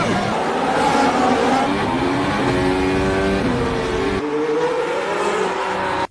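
F1 race cars launch off the start line together, a loud, sustained wall of high-revving engine roar with rising pitch as they accelerate, continuous and dense over several seconds, with no talk.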